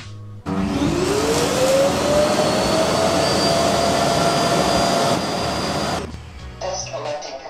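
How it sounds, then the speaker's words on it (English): A NEABOT Q11 robot vacuum's self-emptying dock runs its suction loudly, a steady roaring whine that rises in pitch as it starts and then holds for several seconds before shutting off, close by. "And now you should go to the dock and empty the container there to the big bag there."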